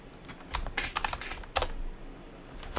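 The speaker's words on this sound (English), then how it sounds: "You may need to verify by typing in your login password" A password typed on a computer keyboard, a quick irregular run of close key clicks with short pauses between bursts.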